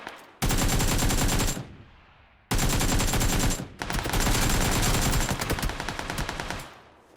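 Gunfire in the shooter game PUBG Lite: two long, loud bursts of rapid automatic fire with a short gap between them, then a third sustained burst that slows into separate shots, with no talking.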